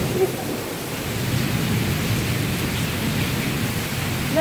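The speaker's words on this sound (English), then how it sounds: "Beautiful rainy day in Florida." Steady rain in Florida as a hurricane approaches, a dense continuous hiss of rainfall with a low rumbling undertone, even and unbroken throughout with no voices.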